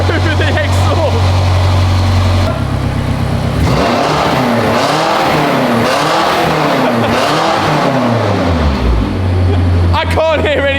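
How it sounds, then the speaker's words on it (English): A BMW M5 Competition's loud exhaust roars steadily through the whole stretch, the engine revving up and down in sweeping rises and falls before settling back to a heavy idle, close and dominant. "I can't hear any difference over here, but the exhaust is so loud."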